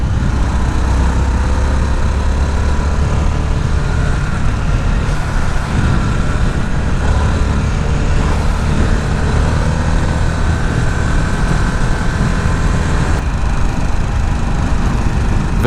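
A Harley-Davidson Sportster S motorcycle engine drones steadily and loudly throughout, a continuous close rumble without pauses.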